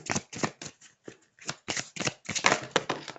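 Tarot cards are shuffled by hand in a quick series of crisp riffling bursts with short pauses between them, close and clear, with no voices.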